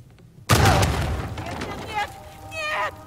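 Loud explosion bursts in the Uncharted 4 video game inside a cave, a sudden blast followed by a long rumbling roar and scattered debris, with further game effects trailing off.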